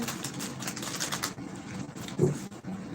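A fairly new tarot card deck being shuffled, a rapid, papery riffle and flutter of cards close by that softens midway, with one brief louder snap of cards near the end.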